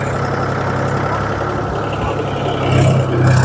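Engine of a loaded farm tractor in a sugarcane field, a steady low rumble that swells louder near the end, with some nearby talk mixed in.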